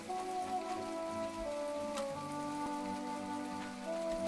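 Steady rain patters down in the farming video game My Time at Portia, a soft continuous hiss under a calm melodic music track, with no voices.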